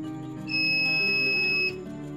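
A high-pitched electronic buzzer on a simple continuity tester for checking broken cables sounds one steady continuous tone for about a second, close and piercing, then cuts off.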